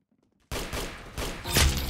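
Gunfire in the Roblox Arsenal video game starts abruptly after a short silence as a loud, dense burst of rapid shots that builds to a sharp peak near the end, heard without talk.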